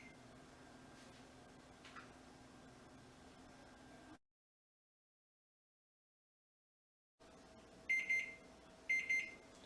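A kitchen timer goes off as cookies finish baking in the oven, giving two short bursts of high electronic beeping after a stretch of quiet, close and clear over faint hum.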